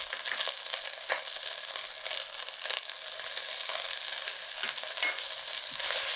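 Ground beef browning in a pan with salt and pepper, a dense continuous sizzle and crackle close up, with occasional stirring scrapes as the meat is broken apart.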